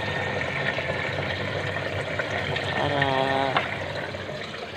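Water pouring from a hose or container onto plants on a rooftop, a continuous splashing and trickling stream under background noise, with a brief gurgling fill near the middle and a short spoken word.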